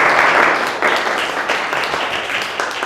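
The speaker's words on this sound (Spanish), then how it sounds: "un aplauso por favor" Audience applause for a guest engineer at a talk on pharmaceutical waste in Mexico, steady dense clapping filling the hall without pause.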